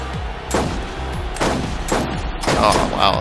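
Gunfire in the Borderlands video game, Mad Moxxi's Underdome Riot, comes as several loud separate bursts of shots at a close range over game background noise.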